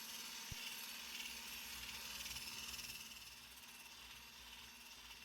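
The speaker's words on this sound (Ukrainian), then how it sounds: "В охолоджені білки додаємо дрібку солі та збиваємо міксером" Electric mixer whipping chilled egg whites with a pinch of salt, a steady high whirring drone that runs continuously and eases slightly in pitch partway through, fairly faint with no talking.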